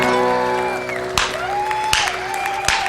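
Audience applause with scattered whoops and cheers breaks out right after a live performance of a song, steady clapping across the room under a sustained instrumental tone, with a few sharp claps standing out.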